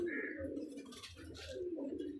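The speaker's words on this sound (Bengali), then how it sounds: "পায়রাগুলো ছেড়ে দেখাচ্ছি" Madrasi pigeons coo steadily as they are let out of a loft, a low continuous warbling that fills the whole short stretch, with some higher bird sounds mixed in nearby.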